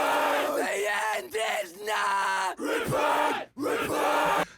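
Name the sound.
gang vocals multitrack from Bring Me The Horizon Chelsea Smile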